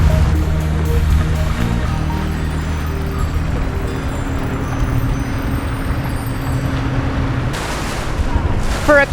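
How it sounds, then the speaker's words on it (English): Strong wind buffets the microphone over a continuous wash of ocean waves during a sailboat race on open water, a loud, steady low roar throughout. "You've got the sound of the wind, the sound of the waves"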